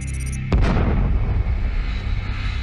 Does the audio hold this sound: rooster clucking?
no